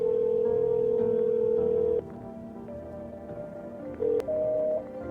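A telephone in a video game tries to call a neighbor, with a steady dial tone that cuts off and then a pair of brief beeps, clear and close, with no speech.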